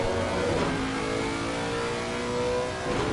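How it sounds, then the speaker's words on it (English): A Ferrari race car engine roars steadily through the Imola chicane in a sim racing game, a continuous loud mid-pitched drone that swells slightly as the revs change. "See Magic Mike's 511 Ferrari entering the chicane now"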